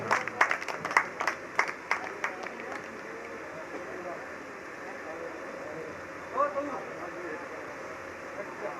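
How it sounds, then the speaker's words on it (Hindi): Clapping breaks out at a devotional bhajan gathering at Katesara Dham, a burst of sharp, scattered claps in the first few seconds that thins into a low room murmur, with a brief voice rising later. "जोरदार तालियों के साथ।"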